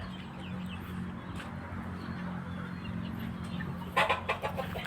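Chickens cluck in a few short bursts near the end over a steady low hum and background noise.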